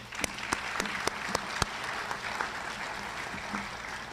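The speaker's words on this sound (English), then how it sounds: "let's give them another round of applause" Applause from the audience at a 2021 adult school graduation ceremony, a steady roar of many clapping hands with several loud, close individual claps early on, continuing evenly without speech.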